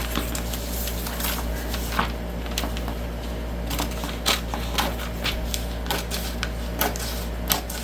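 Utility knife drawn through leather paper in a long cut, producing a string of crisp, close scraping clicks and brief slicing ticks over a low steady hum, with no talk.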